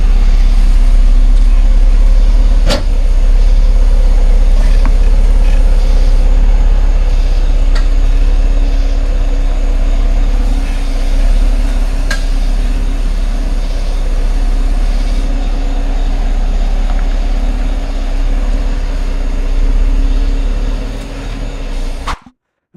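An off-road truck on 35x12.50R17 Thunderer Trac Grip M/T mud-terrain tires crawls over trail rocks, a loud, steady engine and drivetrain rumble with tire and body noise, plus a couple of sharp knocks from the rocks.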